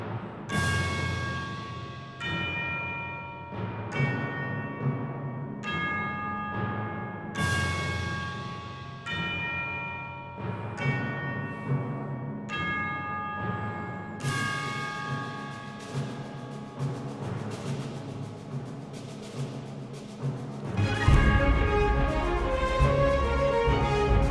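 Orchestral piece with rhythmic percussion and ringing bells: repeated resonant bell strikes with long decaying tones build over several bars before a fuller, denser ensemble passage enters near the end.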